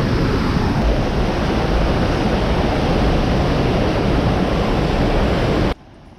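Strong wind blusters loudly across an outdoor microphone beside a short river near Monte Baldo in the province of Verona, a dense continuous rumble that cuts off abruptly at the end.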